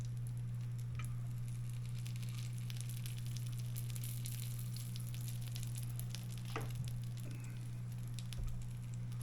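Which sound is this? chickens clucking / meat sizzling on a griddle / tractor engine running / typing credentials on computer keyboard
meat sizzling on a griddle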